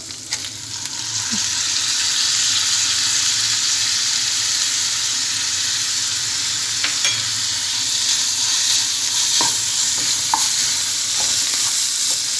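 Rice frying with minced meat in a pan for stuffed artichokes, giving a loud, steady hiss and crackle close by, with occasional spoon scrapes and taps and no talk.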